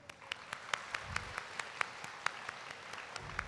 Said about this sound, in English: let's give a round of applause for all of our wonderful student athletes tonight